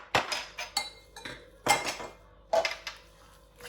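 Raw minced meat with ginger and garlic is mixed in a bowl for kebabs, with a handful of sharp, close clinks of a utensil knocking against the bowl between quieter moments.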